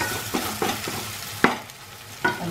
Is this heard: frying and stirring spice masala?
yes